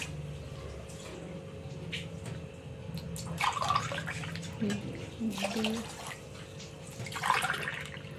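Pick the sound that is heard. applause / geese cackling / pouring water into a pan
pouring water into a pan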